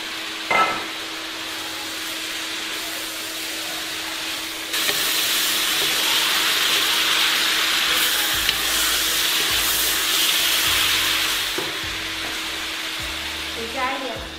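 Tofu puffs and pork fry in a hot wok with a steady, loud sizzle that lasts throughout, swelling as more goes in, with a few clinks of the spatula near the start and end.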